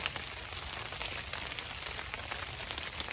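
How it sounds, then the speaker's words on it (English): Dense, continuous patter of hail and rain hitting a surface, with sharper ticks among the steady hiss, loud and close throughout. "Hailing a bit, and then it rains a little,"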